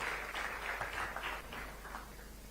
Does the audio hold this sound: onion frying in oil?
no